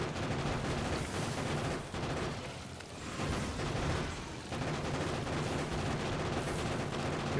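Constant, dense booms and crackling blasts of grenades exploding in Factorio, mixed with rattling gunfire, loud and continuous with no talking.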